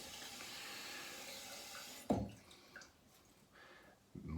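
Tap water runs steadily onto a shaving brush, a soft continuous trickle interrupted by a few brief splashes and knocks as the brush is moved under the stream.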